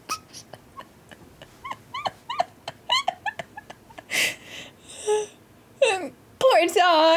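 A dog whimpers in a film scene, a run of short high whines and yips rising into longer wailing moans toward the end, fairly close and loud.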